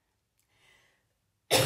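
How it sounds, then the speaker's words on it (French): After a faint breath, a single sharp cough bursts out close and loud from a woman suffering a nasty cough. "une vilaine toux qui est venue me voir depuis hier"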